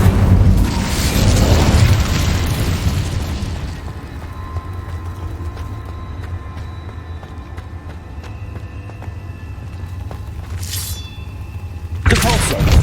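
Fire spell blast from the Hogwarts Legacy video game, a loud roaring burst of flame in the opening seconds, fading into a steady rumble with a shorter flare near the end.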